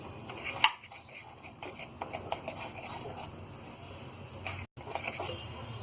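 A spoon stirs cake batter in a bowl up close, quiet scraping and clinking strokes in an uneven rhythm with a sharper knock near the start.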